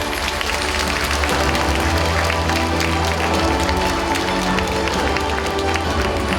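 A crowd of residents claps at a county governor's hope talk concert after a group photo, loud continuous applause with some cheering over a steady low musical hum or background tone.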